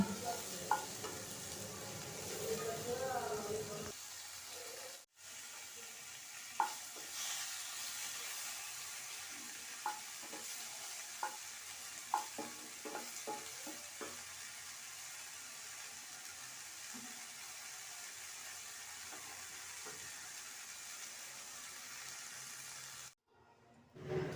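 Cashews and half-inch ginger pieces fry in a pan, making a faint, steady sizzle broken by scattered soft clicks and scrapes of stirring, with no clear voices.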